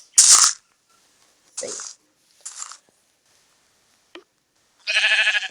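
Several short bleats from sheep in Minecraft Pocket Edition, spaced apart over a few seconds, with a longer, louder wavering bleat at the end, fairly close and clear.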